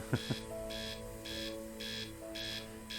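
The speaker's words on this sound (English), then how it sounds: "We got one more alarm to deal with." A beeping electronic alarm in the video game Torven Untethered, aboard a space capsule, repeats in steady pulses, about one per second, with a couple of short clicks at the start and a low hum underneath.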